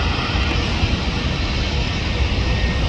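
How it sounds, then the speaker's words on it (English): A Japan Airlines jet airliner departing LAX, heard as a loud, continuous, broadband engine roar that holds steady and close throughout. "And departing for Tokyo and Narita, Japan Airlines."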